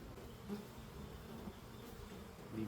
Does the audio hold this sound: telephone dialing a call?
no